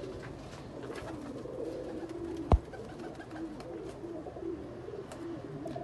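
Breeder pigeons in Faisalabad coo quietly and steadily at a moderate distance, with one sharp click standing out partway through.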